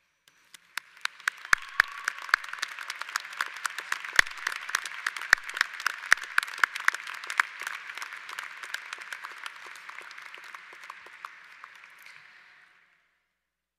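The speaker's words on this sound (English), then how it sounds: "give a robust round of applause to the original authors of our story" Graduates at a college commencement ceremony stand and clap for their families, a steady sustained round of applause that rises quickly, holds dense and even for about ten seconds, then cuts off abruptly.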